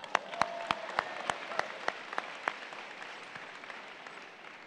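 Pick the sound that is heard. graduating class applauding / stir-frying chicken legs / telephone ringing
graduating class applauding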